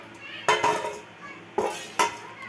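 Dishes and container lids handled while covering cooked aloo posto (potatoes in poppy-seed paste) at home, with three sharp metallic clinks and clatters standing out over quieter shuffling of tableware.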